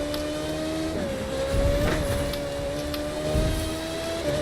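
A Pagani Zonda's engine drones steadily in The Crew 2 racing game, a sustained tone that shifts in pitch as the car accelerates, with brief bursts of louder rumble along the way.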